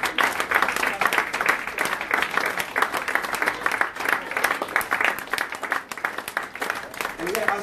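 Audience applause at a Nation of Islam gathering, dense steady clapping throughout, fairly loud and continuous, with crowd voices mixed in.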